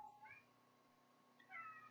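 A house cat meows indoors during a cold winter day, two short, faint meows from nearby separated by quiet, followed by a brief clunk.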